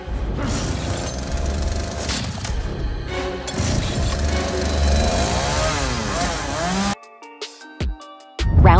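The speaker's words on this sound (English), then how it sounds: "It's Leatherface from the Texas Chainsaw Massacre" Chainsaw sound of Leatherface from The Texas Chainsaw Massacre, a loud, rough, revving roar with crashing noises that runs several seconds, then breaks into harsh electronic stutters and a final burst.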